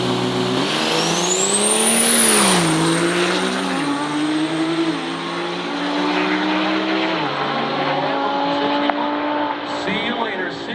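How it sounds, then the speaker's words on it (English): A Lamborghini drag racing a diesel quad cab truck at an Outlaw Diesel Revenge event, engines revving and shifting through gears with rising and falling pitch as they pass, loud at first then receding, with faint crowd voices. "we're gonna race the Lambo and the quad cab"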